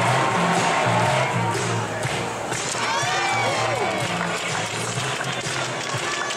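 A crowd at an American football game in Munich cheers and celebrates near the end of the first half, a dense continuous roar of voices with some shouting, steady and loud throughout.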